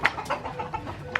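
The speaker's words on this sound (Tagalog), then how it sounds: "Mga manok!" Chickens clucking close by in a yard: a short burst of several soft, irregular clucks with a couple of sharper squawk-like notes.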